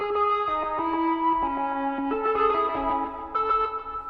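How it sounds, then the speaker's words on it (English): A synth organ lead line plays a short melodic phrase through an echo delay effect, each note trailing soft repeats, alone without talk. "Kind of cool little organ thing. I'm thinking we do a little Fox echo."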